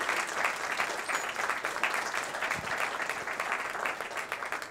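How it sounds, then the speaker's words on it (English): An audience at an ocean studies seminar gives a round of applause for student speakers, with steady, even clapping from a modest crowd lasting several seconds and no talk over it. "I'd like to have one more round of applause for our student speakers."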